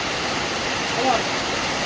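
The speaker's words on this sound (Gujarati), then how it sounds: "પાણી ક્યાંય સમાતું નથી, એટલો વરસાદ પડી રહ્યો છે" Heavy rain pours down in a village during a downpour, a steady, dense wash of noise like a waterfall that holds level and close throughout, with no other distinct sounds standing out.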